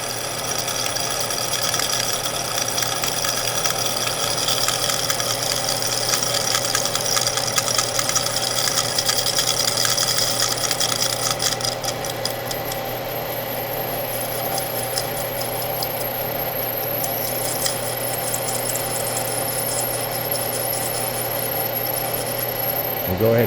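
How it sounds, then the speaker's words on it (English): Drill bit boring out a stuck clutch screw, a steady, loud mechanical whir that grinds on continuously, its pitch rising partway through as the bit bites. "with a drill bit, we're just going to get it started, and it should take a catch and pull that bolt thread right out"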